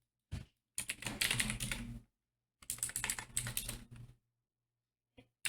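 Two quick bursts of rapid typing on a computer keyboard, close and clicky, separated by a short pause, with one or two stray key taps afterward.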